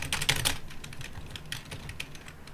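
Computer keyboard typing in quick bursts of close, crisp key clicks, dense at first then thinning out, with a microphone placed right beside the keyboard.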